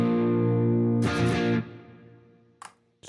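Distorted electric guitar in a crunch tone through the Nembrini Range 120 amp simulator app on iOS, a loud sustained chord that is struck again mid-clip, decays, then ends in a couple of short picked notes.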